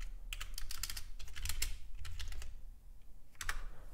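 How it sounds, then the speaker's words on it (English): Computer keyboard typing during a live day-trading session, bursts of quick, crisp key clicks with short pauses between, close and moderately quiet over a low background hum. "So what you heard was typing."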